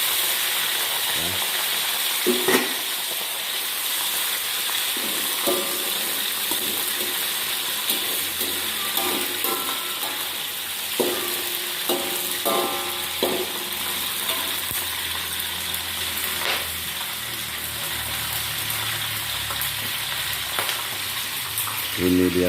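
Meat for Acehnese masak merah fries with coconut milk, a steady close sizzle throughout, broken by frequent clicks and scrapes of stirring utensils against the pan.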